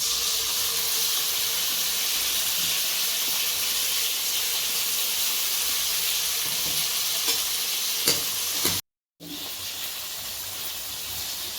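Mashed tomatoes sizzle and fry in a pan for garlic pepper kulambu, a loud, continuous hiss with brief stirring clatter near the end, one abrupt short gap, and no talking.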